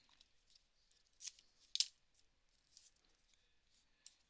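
Scissors snipping foam tape into strips for a handmade greeting card, a few sharp, quiet cuts with pauses between them, heard alone without talk.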